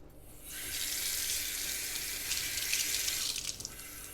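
Water streaming from a salon basin spray while hair is rinsed out, a close steady hiss starting after a quiet half second and running on, with faint splashing and dripping near the end, no voices.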